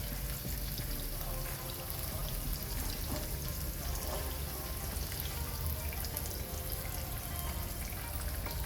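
Onions fry in a generous amount of oil for chilli paneer, a dense steady sizzle and crackle, close and continuous with no speech.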